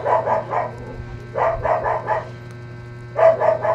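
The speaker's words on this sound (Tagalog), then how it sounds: "naingin ang aso namin" A dog barks in three quick bursts of several yaps each, moderately close, with a steady low hum in the background.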